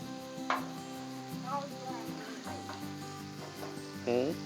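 Chicken bites sizzling on a Blackstone griddle as they are flipped and stirred, a faint frying hiss with scraping strokes beneath steady tonal background sound.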